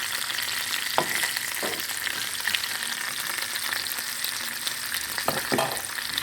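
Pork frying in a pan with a steady, moderate sizzle, broken by a few soft thumps and scrapes as the meat is turned, with no talk.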